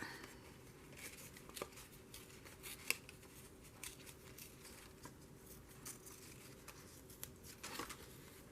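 Scissors snip through blue paper scraps to cut out a small bluebird shape for a junk journal, producing quiet, irregular close-up snips and rustles over a soft room background.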